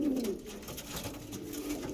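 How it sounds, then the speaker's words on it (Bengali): Adult breeder pigeons, Andhra red-vein birds kept for sale, coo steadily and close by in a soft, low, continuous murmur with no talking. "আজকে কিছু পায়রা এনেছি যেগুলো সেলে থাকবে। এগুলো সব ব্রিডার পায়রা, সব ধাড়ি পায়রা।"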